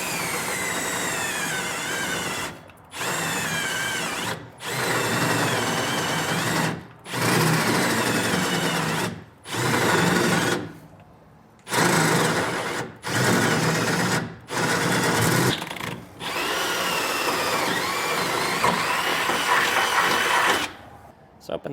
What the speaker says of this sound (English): we'll take an 11/16 drill bit and drill out all 4 of them